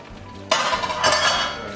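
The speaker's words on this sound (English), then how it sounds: "So now we add the andouille sausage." Andouille sausage pieces tumble into a hot gumbo pot. A sudden bright clatter and sizzle burst out and hold steady, loud and close, with a second swell of hissing as more pieces land.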